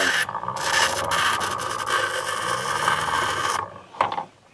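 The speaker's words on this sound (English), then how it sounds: "try and grind it" A grinding tool works a part for a Walden Vision kayak repair, giving a loud, continuous abrasive whir for several seconds, then stopping, followed by a brief scrape and a clatter.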